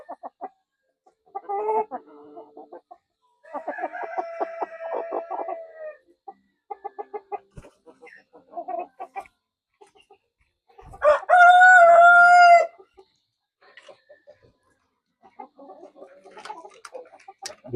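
Rhode Island Red Mahogany chickens on a backyard farm, with repeated nearby clucks and cackles in bursts and one loud, drawn-out rooster crow in the middle, no talking.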